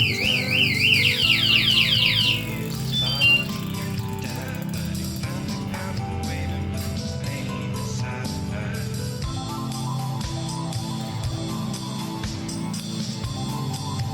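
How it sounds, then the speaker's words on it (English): A bicycle's electronic alarm warbles loudly in rising-falling sweeps for a couple of seconds, then gives way to a steady low hum with faint clicks. "I got my alarm stuff to go on"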